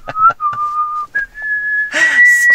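A person whistles the melody of a Japanese song, clear sustained tones sliding between notes with short breaths in between, close and alone.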